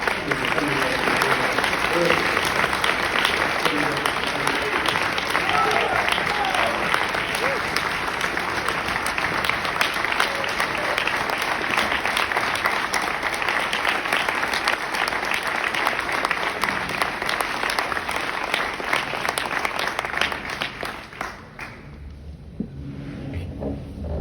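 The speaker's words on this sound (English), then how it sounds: "So I'd like to get a round of applause for the career soldiers who are here tonight." Sustained applause from a banquet audience honoring career soldiers at a West Point athletics Hall of Fame dinner, a dense, steady wash of clapping that fills the room for about twenty seconds before thinning out and fading near the end.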